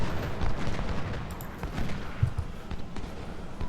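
Distant musket and cannon fire in the video game Ultimate General: Civil War, a steady low rumble of scattered shots and booms with a few sharper reports, fairly faint and continuous throughout.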